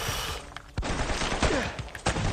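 Bursts of gunfire in the video game Uncharted, a rapid string of sharp cracks and shots in a loud, chaotic firefight, several clustered reports with short gaps between them.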